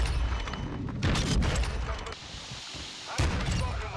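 Gunfire from a gas-type sniper in an online shooter, sharp reports and booms bursting out in a dense, loud barrage that drops briefly near the middle and returns, with people talking over it.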